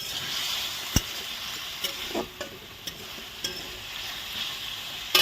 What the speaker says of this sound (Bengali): মশলাটাকে কষে ছোলা আর আলুটাকে ভালো করে কষে নিচ্ছি।